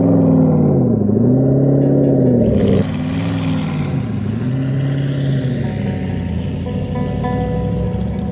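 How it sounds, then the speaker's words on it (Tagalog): Vehicles climb desert sand dunes, their engines droning loud and close with wavering revs that rise and fall, then settle into a lower, rougher rumble. "narinig ko na yung tunog ng mga sasakyan na pinapaakyat nila ito sa sand"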